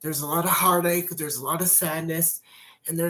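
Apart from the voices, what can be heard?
No everyday noises stand out.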